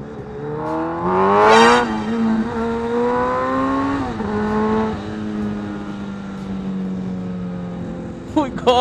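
A 2015 Suzuki Hayabusa motorcycle accelerating hard on an expressway, its engine note climbing sharply through a high rev, then settling into a steady loud drone with wind rush, another rising burst near the end.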